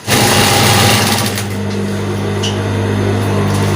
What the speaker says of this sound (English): then I'll start sewing from armhole to armhole.